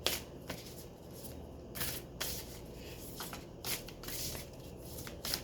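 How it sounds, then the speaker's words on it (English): Tarot cards being handled and turned over, giving soft rustling and shuffling with several crisp flicks and slaps, quiet and close with no talking. "Let me turn the cards around."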